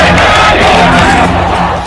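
A large crowd of Hindu protesters demonstrating in the streets of a Bangladeshi city, a loud, dense wash of shouting and chanting voices filling the whole stretch without pause.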